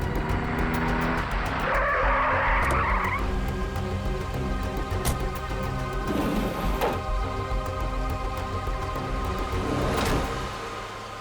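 A car speeds past with tires squealing and skidding, engine roaring loudly up close, followed by further sharp skid bursts over a steady motor drone, with no talk.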